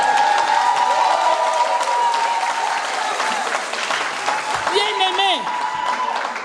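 A church congregation applauds and cheers during a French-language service, a loud, steady wash of clapping and voices that continues throughout, with a brief rising whistle or shout partway through.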